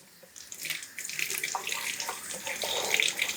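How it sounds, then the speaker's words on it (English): Kitchen tap water runs steadily as produce is washed under it in a home kitchen, a continuous close hiss and splash with no talking. "Always wash your produce, y'all."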